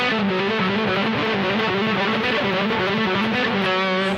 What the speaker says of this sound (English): one of the ways that you can use it is by doing some triplet things